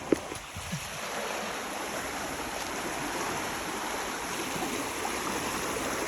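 Canal water spilling out into a stream, a steady broadband rush of flowing water that holds constant and close throughout, with no voices.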